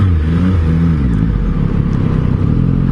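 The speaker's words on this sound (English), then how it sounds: "This triple motor CP3" A 2022 Yamaha MT-09 with its CP3 triple-cylinder engine revs steadily up close, its rising and falling engine drone continuous and loud throughout with no talk.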